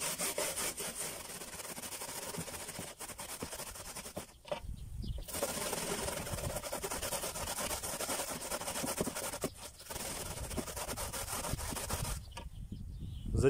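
Onion rubbed against a hand grater for Belarusian potato dumplings, steady close rasping strokes with two brief pauses, no talking.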